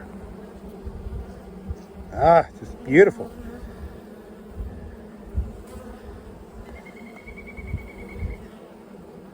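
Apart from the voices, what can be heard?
bees buzzing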